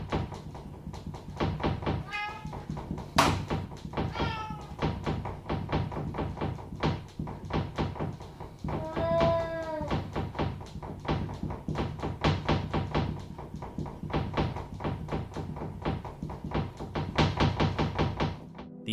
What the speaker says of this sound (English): The odd knocking noises seem to really bother the cat.